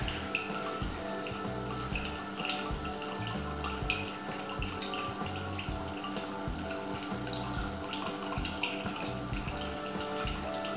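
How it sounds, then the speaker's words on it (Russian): A thin stream of water runs steadily through a charcoal filter cartridge fed by a small pump, a continuous close trickle with light dripping and a low mechanical hum beneath. "через этот картридж, ну струйка сейчас чуть-чуть увеличится, картридж водой заполнится"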